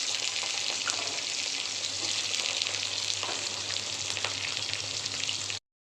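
Bori dumplings, bitter gourd and vegetables frying in oil with tempering spices for Bengali shukto, a steady loud sizzle with occasional stirring scrapes, alone, cutting off abruptly at the end.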